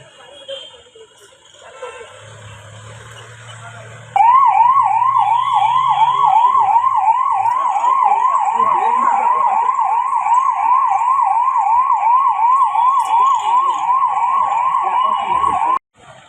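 A fire ambulance siren wailing loudly in a fast rising-and-falling pattern, starting abruptly after a low engine rumble and holding steady before cutting off.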